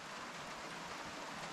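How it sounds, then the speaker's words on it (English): Steady rain falls outside a hut in the bush in the Kaimai Ranges, a constant soft hiss of drops on the surface, even and unbroken, with no voices. "Went to bed raining, woke up raining."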